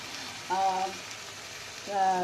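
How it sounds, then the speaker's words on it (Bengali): Spices frying in a pan for a light curry give a low, even sizzle throughout, broken by two brief tonal sounds, quiet and close. "ফ্রাই করে নিই"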